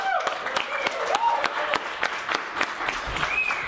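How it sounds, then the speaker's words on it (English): Audience applause at a Libertarian Party meeting, a steady wash of clapping from a room of people, with voices calling out and chatter mixed in over the noise. "Give yourselves a big round of applause."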